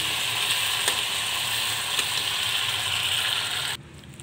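Garlic for a garnish fries and gets stirred in a pan of hot oil, a loud continuous sizzle with small scraping ticks from the stirring, close up, cut off abruptly near the end.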